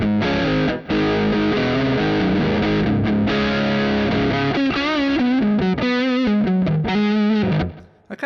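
Electric guitar on its slim front single-coil pickup, run through a Valeton GP-5 multi-effects pedal, plays a continuous distorted, chorus-tinged passage of sustained chords and bending lead notes, loud and close, briefly gapping near the start and fading at the end.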